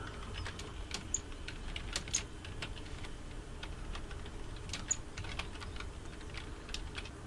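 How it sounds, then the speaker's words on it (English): Steady typing on a PC computer keyboard, a continuous run of quick, light key clicks with a few sharper taps, close and alone with no talk. "I'm going to click inside this little box here and I'm just going to type"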